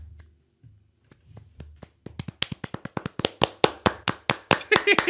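Bare hands clap right into a microphone, starting as a few scattered claps and building into a fast, loud, steady run of sharp claps, close and dry.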